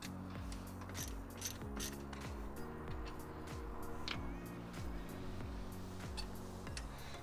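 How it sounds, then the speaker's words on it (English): A ratchet turns a 10mm socket to undo a bracket bolt holding coolant lines on a Ford Ranger TDI. Steady, even clicks repeat close by at moderate volume, with no voices. "So just a 10mm socket to get that off."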